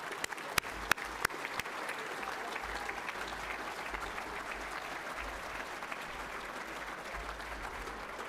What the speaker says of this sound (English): So please just join me in a round of applause for Bob and Martin